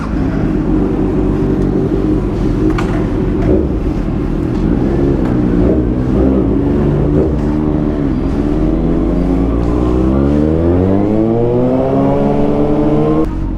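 A Kawasaki ZX6R sport motorcycle engine revs loud and close, starting with a rough steady idle, then climbing repeatedly in rising, whining pitch toward the end.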